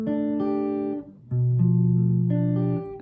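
A dominant seventh chord voicing rings out in sustained held tones, changing shape a few times before fading, clear and close with no talking.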